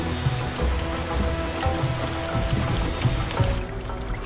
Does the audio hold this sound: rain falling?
yes